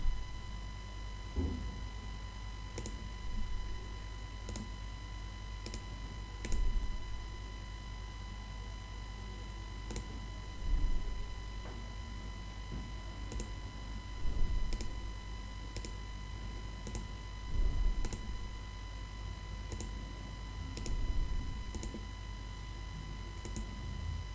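Sparse, faint mouse clicks come at irregular intervals while concentric arcs are drawn in CATIA CAD software, over a steady electrical hum.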